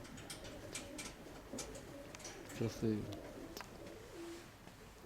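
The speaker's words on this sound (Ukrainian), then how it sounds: "Красиві, красиві голубки. Красивенькі голубки." Pigeons coo softly once in the middle, a low, throaty warble beneath someone speaking quietly amid outdoor background noise.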